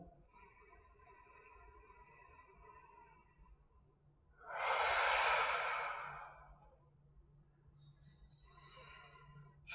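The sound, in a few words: deep breathing during a hatha yoga pose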